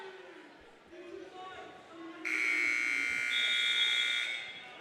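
A wrestling match's end buzzer sounds in a school gym during a senior night meet, a loud sustained electronic drone that cuts in midway and holds for about two seconds over crowd noise.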